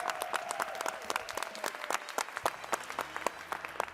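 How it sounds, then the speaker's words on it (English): A crowd claps steadily in brisk, scattered applause, moderately close, with a faint tone lingering underneath. "Vice President Brian Ullman, please give him a round of applause"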